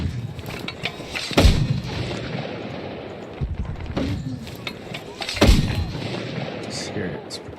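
Mortar shells thump and boom in Battlefield 6, two heavy blasts a few seconds apart standing out over constant rumbling battlefield noise, with scattered smaller impacts between them.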